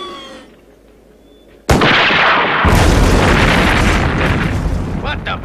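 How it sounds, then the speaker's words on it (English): A large demolition explosion at an old research center erupts suddenly after a quiet lead-in, a loud booming blast followed by a sustained roaring rumble and debris that fills the rest of the clip. "They must have started demolition."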